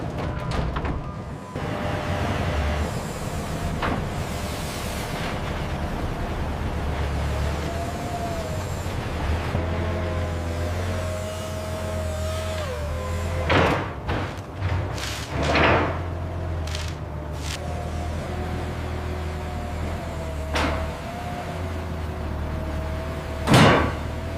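Doors opening and closing in a fish processing factory, with sliding and knocking sounds and a few sharp bangs and clatters in the second half over a steady low mechanical hum; no one speaks.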